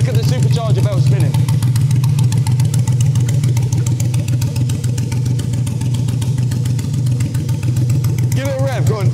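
A supercharged car engine runs steadily with its supercharger belt spinning, a loud, close, constant drone that fills the whole stretch, while people talk briefly over it at the start and end.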